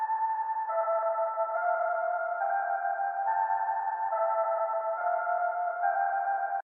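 An unprocessed Prophet synth lead sample from Cymatics stems plays solo, a smooth bright melody moving through several held notes at a steady, close, even level.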